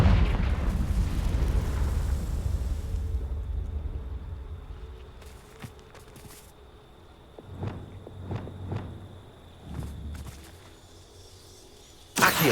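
Spell blasts and impacts in a Hogwarts wizard video game, with a loud rumbling burst at the start that fades into a string of sharp cracks and booms, closing on another abrupt hit.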